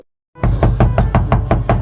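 Rapid, loud knocking on a door in a Filipino comedy sketch, about eight evenly spaced raps in a steady urgent rhythm, close by and with no talk over them.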